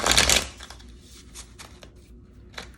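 A deck of cards is riffled in a loud, fast burst, followed by a few softer flutters and taps as the cards settle.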